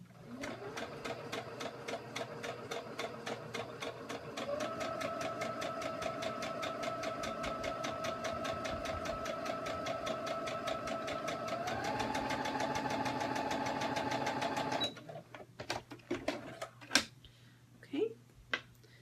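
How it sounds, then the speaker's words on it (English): A sewing machine stitching scrappy rainbow quilt block pieces, a close, steady mechanical whir that speeds up slightly midway, then stops, followed by a few faint handling clicks. "line it up and sew that in place"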